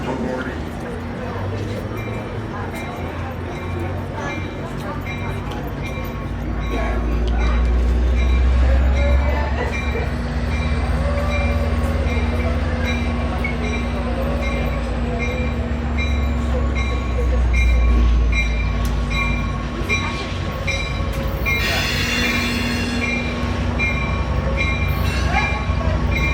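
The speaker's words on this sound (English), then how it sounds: "they are moving it over to track number 2 to make way for an inbound train" An Amtrak San Joaquins train rolls slowly along the platform tracks, a deep steady rumble that swells and eases as cars pass, with faint wheel squeal and a high tone late on.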